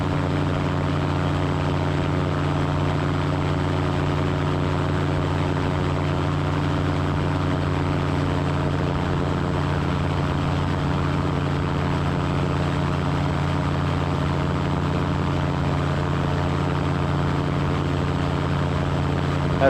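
A small floatplane's propeller engine drones steadily in flight during a lazy turn over water near an island, a loud constant cabin hum with no breaks.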